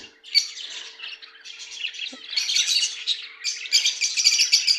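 A Fischer's lovebird chirps and squawks rapidly, with shrill, bright calls coming in bursts close by and no talking.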